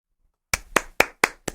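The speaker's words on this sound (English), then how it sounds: "I'm applauding. I'm clapping because you are living full out, girl." One person claps hands in applause, five sharp, evenly spaced claps following a brief silence, close and fairly loud with no talking.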